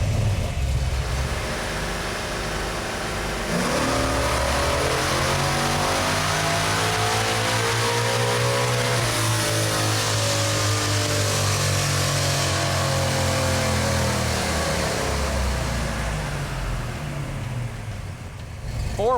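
Sleeper Ford Granada on a chassis dyno with a nitrous shot, its engine revving hard and climbing steadily to high RPM, a loud sustained roar with rising harmonics before dropping off at the end.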